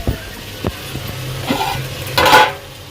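Cooked rice being stirred and mixed by hand with a boiled tomato and coriander chutney, soft wet squelching and scraping in a few short bursts, close and fairly quiet.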